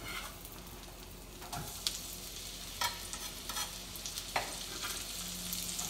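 Onion being added to a hot pan with garlic already in it, hissing as a steady broadband sizzle with occasional sharper crackles and stirring scrapes, close and moderately loud, with no talking, for a ranchero-style shrimp dish.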